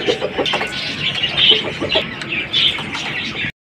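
A sitting hen clucks intermittently nearby, with short chirps and scratchy rustling around it, then the sound cuts off abruptly.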